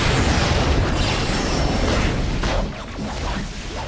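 Grenade blasts in the action game Marvel Heroes 2015, a dense rumbling wash of explosions and bursts that stays loud for over two seconds, then eases into a lower, steadier roar.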